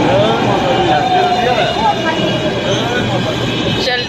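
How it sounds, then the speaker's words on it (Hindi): A metro train pulls into an elevated station with a loud, steady rumble and rising whine, while voices talk over it. "तो गाइस आ चुकी हमारी मेट्रो।"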